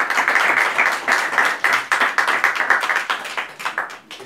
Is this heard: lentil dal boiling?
no